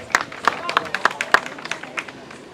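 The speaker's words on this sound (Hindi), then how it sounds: "मोहम्मद उसामा भाई के लिए तालियां हो जाए भाई" Scattered audience claps ring out for a quiz contestant at an outdoor cattle farm event, a few distinct hand claps building briefly amid murmuring voices.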